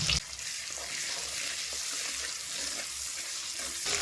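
Black cumin, cut chillies, chopped tomato, turmeric and salt fry in hot oil in a pan, giving a continuous close sizzle with faint rhythmic stirring beneath.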